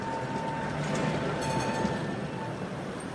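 A tram passes through a Prague street in winter, a steady rumbling roll with faint wheel clatter and a thin high squeal along the rails, continuous over the whole stretch with no voices.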